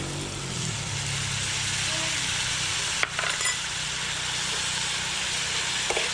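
Shrimp paste frying in a small amount of oil, a soft continuous sizzle and hiss with a couple of brief scraping clinks, over a faint low background hum.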